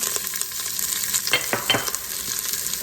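Celery and onions sizzle in a little olive oil in an Instant Pot, a steady close crackle broken by a couple of scraping stirs of a utensil through the vegetables.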